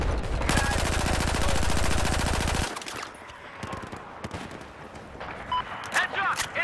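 Sustained machine gun fire rattles loudly for over two seconds in a Battlefield 4 battle on the Gulf of Oman map, then breaks into scattered single shots and impacts, with voices calling out over the din.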